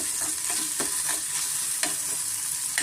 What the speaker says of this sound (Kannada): ಈರುಳ್ಳಿನ ನಾವು ಚೆನ್ನಾಗಿ ಫ್ರೈ ಮಾಡಬೇಕಾಗುತ್ತೆ